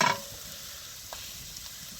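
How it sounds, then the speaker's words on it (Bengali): Onions and green chilies frying in a pan give a soft, steady sizzle, quiet and close, with a brief stirring scrape at the start. "ভাজা ভাজা হয়ে গেলে পেঁয়াজও নরম হয়ে গেছে, কাঁচামরিচও ভাজা ভাজা হয়ে গেছে"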